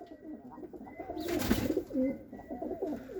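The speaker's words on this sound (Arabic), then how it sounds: "هاي الطيره البصفر القديمه كانت بسطحي" Pigeons coo in a rooftop loft, soft repeated throaty coos close by, steady and low, with no talk over them.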